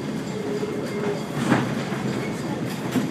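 An open-car tourist excursion train runs on its rails near Hopewell, Pennsylvania, giving a continuous close rumble with rhythmic clickety-clack and a brief louder jolt midway, with no voices.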